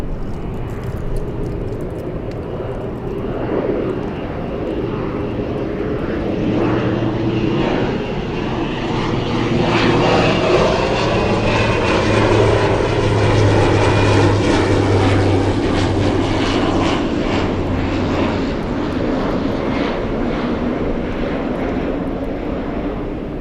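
A fixed-wing airliner takes off from LAX runway 24 Left, its engines a loud, steady roar that swells and holds across the whole stretch, with no talking.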